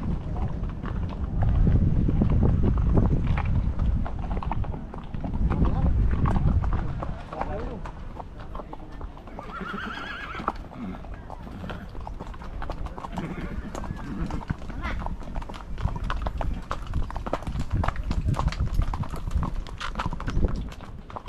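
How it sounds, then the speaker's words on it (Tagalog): Hooves clip-clop steadily as horses walk past, with people talking over them and a brief whinny partway through. "Ang daming mga kalabaw, ang daming mga kabayo."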